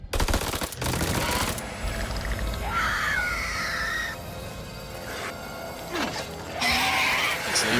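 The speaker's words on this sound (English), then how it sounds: "Let's do a shooting." Bursts of heavy gunfire in the horror game House of Ashes, loud rapid shots packed together at the start, then shifting into eerie screeching creature cries and renewed blasts, dense and close throughout.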